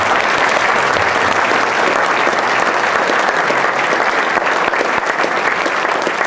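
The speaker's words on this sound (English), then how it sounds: "if you can give a round of applause to all these veterans that are here today" An audience at a veterans' dedication ceremony applauds, a loud, dense wash of clapping that holds steady from start to finish with no voices over it.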